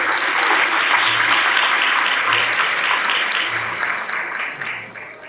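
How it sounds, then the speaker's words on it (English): Audience applause for event sponsors at an AASO student fundraiser evening, a dense, steady roar of many hands clapping that holds strong through the clip and starts to thin toward the end. "let's get a round of applause for all of our sponsors and for all of you"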